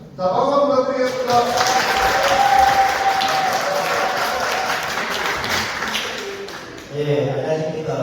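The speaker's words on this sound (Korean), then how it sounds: "박수 한번 부탁드리겠습니다" A crowd at a Democratic Party members' day event in Gumi, South Korea, breaks into loud, sustained applause. Voices are briefly heard at the start and near the end as the clapping tapers.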